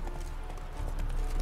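Horse hooves clip-clop steadily in The Witcher 3: Wild Hunt, a continuous rhythmic trot under a thick game backdrop that grows slightly louder toward the end.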